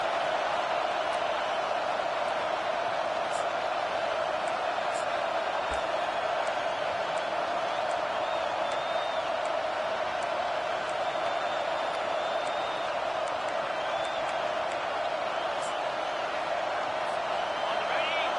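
Steady roaring crowd noise from a college football video game stadium, a dense continuous wash of cheering with occasional whistles, filling the background under commentary during a fourth-down play against Ohio State.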